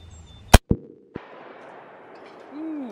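A single loud, sharp rifle shot from a .50 BMG or .338 Lapua rifle at an outdoor range cracks close by and is followed by a brief metallic ring and a fading echo, with no talking.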